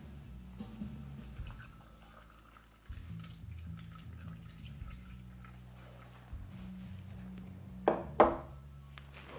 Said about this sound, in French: Alors, j'ajoute l'eau.